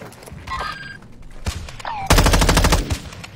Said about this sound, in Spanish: Dice que le está disparando el otro techo.